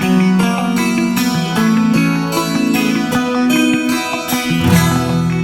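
Layered electric guitars play a short ascending arpeggiated pre-chorus progression, steady and full with no talking over it.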